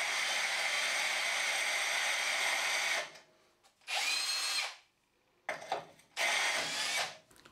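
An AEG 18V cordless drill (BSB 18 CBL) with a diamond hole saw whines loudly in sustained bursts cutting granite tile, cutting hard then pausing, with several shorter runs following; no talking.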